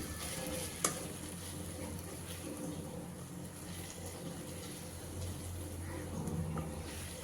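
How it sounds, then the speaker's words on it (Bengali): Taro greens frying in a pan while being mashed with a metal spatula, giving a steady low sizzle with faint scraping and one brief clink, close and soft with no talk. "মাছের মাথা দেওয়ার আগে কচুর শাকগুলো আমি খুব ভালোভাবে খুন্তি দিয়ে ম্যাশ করে নিচ্ছি"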